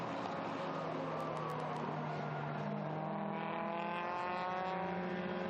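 A historic Alfa Romeo race car at Estoril Classics howls through its gears, the engine note rising and shifting over several seconds under a thin, distant racing backdrop, with no voices heard.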